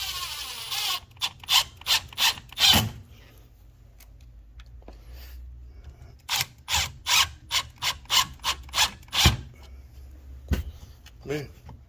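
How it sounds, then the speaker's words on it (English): A power drill drives screws into a shower faucet fixture in short bursts, each a whirring ratchety grind, with a cluster early on, a pause, then a longer run of quick pulses and two sharp knocks near the end. "So we'll shoot a couple screws in here."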